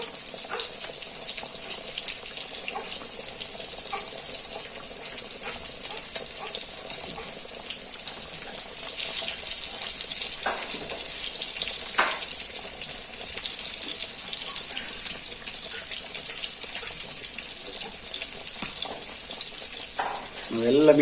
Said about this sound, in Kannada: ನಮ್ಮ ಮಸಾಲೆ ಎಲ್ಲ ಕುದಿ ಬರ್ತಾ ಇದೆ. ನಾವೀಗ ಇದಕ್ಕೆ ಮೀನನ್ನು ಆ್ಯಡ್ ಮಾಡಬೇಕು.